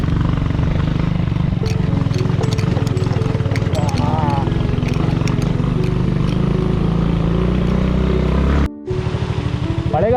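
A motorbike engine drones steadily and loudly on an off-road forest trail in Dakshina Kannada after rain, with a sharp break near the end, as a rider talks over it.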